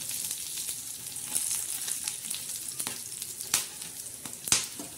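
Whole spices roast in a pan with a soft, steady sizzle and occasional light stirring scrapes and clicks, close and fairly quiet, with no voices.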